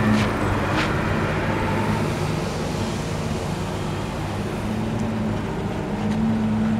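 A 4-liter car engine idles with its air-conditioning belt removed, giving a steady, close, even hum with a low drone throughout and no speech.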